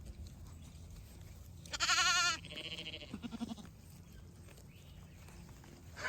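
A sheep, newly put among other sheep, lets out one loud drawn-out bleat followed by a few shorter, quieter calls against a faint outdoor background.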